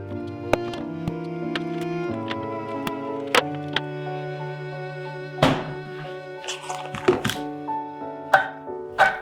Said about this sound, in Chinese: 红椒切片，红洋葱切丝